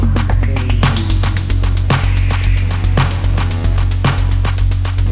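An Elektron Analog Rytm pattern plays loud and steady: pounding kicks and clicky hits on a regular beat, with a detuned, bit-reduced vocal sample gliding upward and rising noise smearing through it.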